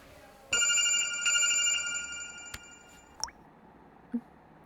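A telephone rings with a bright electronic trill in a few bursts, loud and close. It breaks off after a couple of seconds, leaving brief drips and faint noises in a quiet room.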